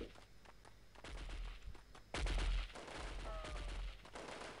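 Enemy convoy gunfire in the Delta Force video game comes as rapid bursts of shots with a heavy blast midway, set over crunchy footstep-like noise.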